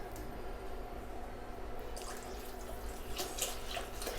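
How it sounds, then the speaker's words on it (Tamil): Water pours into a pot of rasam in a kitchen, a steady faint stream with light splashing that brightens slightly toward the end. "இப்போ நம்ம இந்த ரசமுக்கு தேவையான அளவுக்கு தண்ணி சேர்த்துக்கலாம்."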